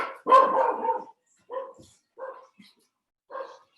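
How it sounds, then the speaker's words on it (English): A dog barks indoors during a quiet stretching session: one loud, drawn-out bark up close, then three shorter, softer barks spaced by silent gaps, with no talk. "Sorry for the dog bark."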